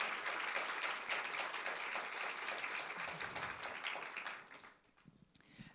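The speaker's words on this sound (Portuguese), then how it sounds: "vou pedir uma salva de palmas para o Panayotis, do público" At a book fair, a crowd applauds an author with a dense burst of clapping that stays strong for about four seconds, then thins and fades out, leaving a few scattered claps and room noise.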